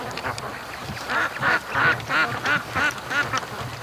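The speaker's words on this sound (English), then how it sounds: "we got wagga ducks down here" Domestic ducks on a lake give a run of about eight raspy quacks in a steady rhythm, fairly close and moderately loud over faint outdoor background noise.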